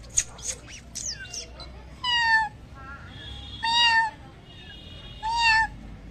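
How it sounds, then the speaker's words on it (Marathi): A small kitten in a cool village setting gives three distinct, fairly loud meows spaced about a second and a half apart, following a few quick high chirps at the start. "तिथे मांजरीचं पिल्लू आहे"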